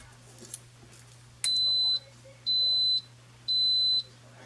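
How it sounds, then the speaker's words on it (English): Electric pressure cooker beeping three times, each long steady tone lasting about half a second with even gaps, clear and fairly loud over a low steady hum. "and wait for it to beep."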